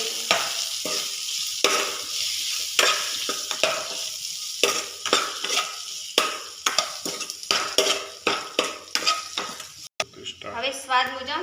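Masala dosa filling with turmeric is stirred in a hot pan, giving a continuous sizzle under repeated scraping strokes of a utensil against the metal, close and fairly loud, with a brief clatter near the end.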